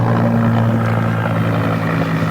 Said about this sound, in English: I learned a long time ago not to talk when the helicopter's flying over.